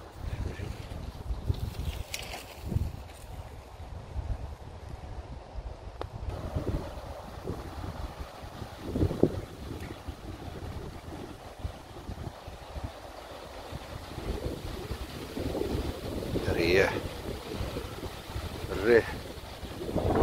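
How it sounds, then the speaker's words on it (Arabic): Gusty autumn wind in the Belgian countryside buffets the microphone in uneven low rumbles, rising and falling throughout, with a faint sense of open water nearby. "الريح"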